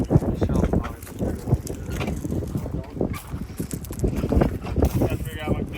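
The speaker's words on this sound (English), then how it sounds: "Sorry about the wind." Wind buffets the microphone outdoors in an irregular low rumble with gusty roaring bursts, while a voice speaks faintly underneath.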